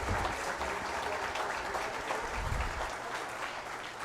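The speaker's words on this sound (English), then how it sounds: "Big round of applause for Jerry and Claire." Applause at a drag racing banquet fills the room in a steady, dense wash of clapping from a crowd at an even moderate loudness for the whole stretch, with no voices rising above it.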